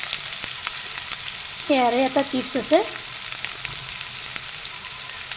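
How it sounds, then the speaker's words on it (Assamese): Onions fry in a pan with a steady, close sizzle and occasional stirring scrapes. A person speaks briefly partway through. "পিয়াজখিনি ৰং চঙোৱা নহয় তেতিয়ালৈকে মই ভাজি দিম"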